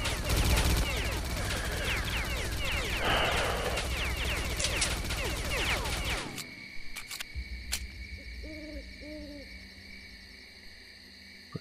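Sustained, dense machine gun fire in the S.T.A.L.K.E.R. Clear Sky video game rattles loudly for about six seconds, then stops abruptly, leaving quieter ambience and a few isolated sharp shots.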